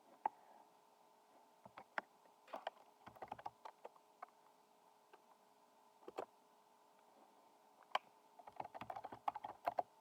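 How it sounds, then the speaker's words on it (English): Keystrokes on a computer keyboard enter ipconfig at a Windows command line, sounding as sparse, close, soft clicks scattered over ten seconds with a quicker burst near the end, above a steady faint electrical hum. "opening command line from Start menu, then type ipconfig."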